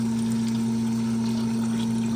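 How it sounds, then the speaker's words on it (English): A liquid pump steadily circulates a gallon of distilled white vinegar from a bucket through a tankless water heater during yearly descaling, giving a constant close hum with a faint watery churn and no pauses or talk. "So I pour the gallon in there, put the pump in, and then run this."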